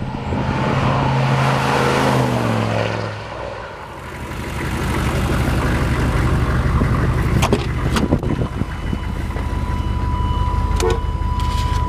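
A diesel pickup truck engine idles and revs up close, a deep rumbling drone that dips briefly and then settles into a steady run with a few clicks.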